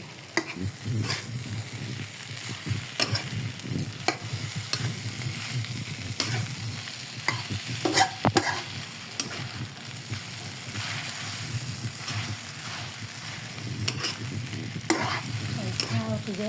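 Egg fried rice with tomato being stir-fried in a pan, a steady loud sizzle with repeated scraping and tossing strokes of the spatula throughout, no talking.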